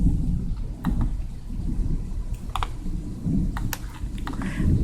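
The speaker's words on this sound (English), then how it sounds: "That's the convection going on in the thunderstorms." Distant rolling thunder from thunderstorms rumbles low and steady, broken by a few sharp crackles, with no voices present.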